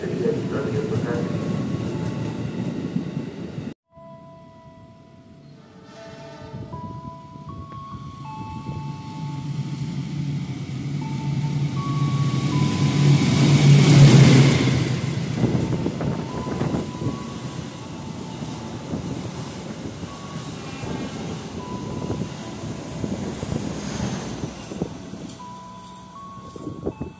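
Commuter train on line 1 bound for Cikarang station, rolling in with a sustained low rumble that swells to a loud peak about midway, then eases under station announcements.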